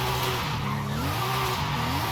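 A Toyota Chaser with a 1JZ engine and stock exhaust runs in Forza Horizon 5. The engine drones steadily with shifting tones, and a tire squeal or skid sits over it.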